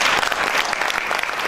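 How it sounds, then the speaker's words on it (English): Dense audience applause for a presenter closing a workshop session, loud and steady clapping from a room full of people, with no talking over it. "Applause for the speaker."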